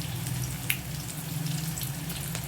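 Onions and a couple of dried red chillies fry lightly in hot oil in a home kitchen, giving a soft, steady sizzle with a faint crackle throughout and no voices.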